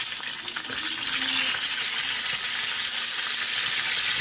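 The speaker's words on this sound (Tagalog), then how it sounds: "Prito na natin yung ating isda" Fish frying in a pan of oil, a steady loud sizzle and crackle running throughout, with a few light clinks of a utensil near the start.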